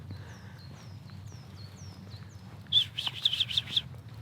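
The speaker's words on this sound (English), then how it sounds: "there are these tiny birds" Thin, high chirps from tiny birds repeat in a series in Germany, followed by a brief cluster of sharper tweets, fairly faint over a low ambient hum.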